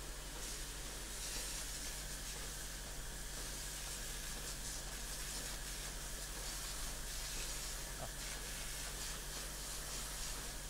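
A water hose sprays steadily to wash off a dairy cow's feet at a creamery, a continuous broadband hiss lasting throughout, fairly faint and close, with no talking.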